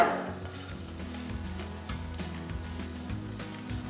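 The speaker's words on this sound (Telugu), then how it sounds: "అసలు చూడండి కాకరకాయ ముక్కలు బాగా ఫ్రై అయిపోయిందనమాట" Bitter gourd pieces fry in a pan for a Telugu kakarakaya ullikaram dish, giving a steady close sizzle with occasional stirring scrapes throughout.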